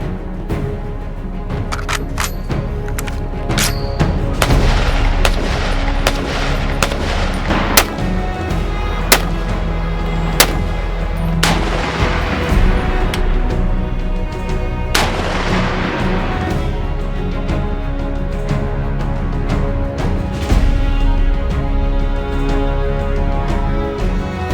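A James River Armory M-14 rifle with a forged receiver fires fully automatic, loud sharp shots in scattered bursts and singles over a sustained, reverberant outdoor rumble, with no voices.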